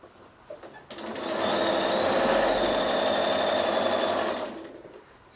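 A sewing machine stitches binding onto a quilted project bag, running in one steady, loud, close whirring burst of a few seconds that starts and stops cleanly, with quiet handling noise on either side.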